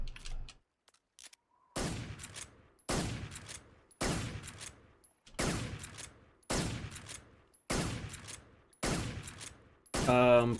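Repeated bursts of automatic gunfire in Metal Gear Solid 3, about eight loud volleys roughly a second apart, each trailing off into brief silence.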